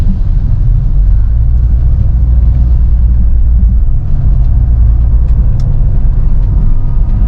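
Steady low engine rumble from a 2003 Peugeot 307 SW petrol automatic while driving, loud and continuous with no clear break where the revs dip on a gear change.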